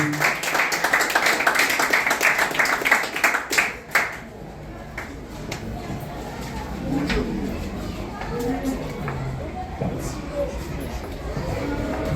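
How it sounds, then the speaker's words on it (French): An audience at a graduation ceremony gives a burst of dense clapping for about four seconds before it cuts off, followed by quieter room sound with a voice speaking. "Applaudissez, applaudissez."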